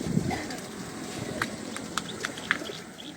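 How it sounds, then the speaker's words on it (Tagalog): Pigeons kept by a fancier coo in a loft ahead of a morning release, a low burst near the start and faint scattered calls over steady outdoor background noise, with some sharper chirps and clicks. "Ito yung mga ibon natin."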